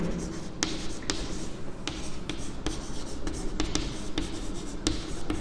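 A pen writes out a maths logic statement by hand, producing soft scratchy strokes with intermittent taps and short pauses, moderately close and heard alone without talk.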